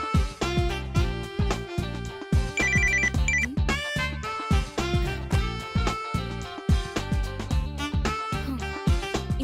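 A mobile phone rings with an incoming call in a Tamil TV serial scene, a bright repeating electronic ringtone melody playing loudly and steadily throughout with no voices.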